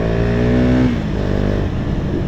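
A KTM Duke 250 motorcycle with an aftermarket exhaust revs up hard and loud, its pitch climbing before the engine drops back to a rough, rumbling idle.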